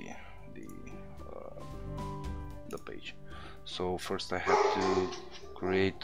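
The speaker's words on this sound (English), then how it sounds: "sorry about that, that's my dog barking in the house." A dog barks indoors in a house, several sharp barks near the end following a stretch of a person talking.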